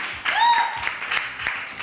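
Studio audience applause on a French television show, a short burst of clapping from a crowd, loud and close, with a whistle rising through it early on.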